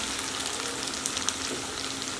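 Fish heads frying in a pan with ginger and garlic paste, giving a steady dense sizzle throughout, with a couple of faint scraping stirs partway through and no voices.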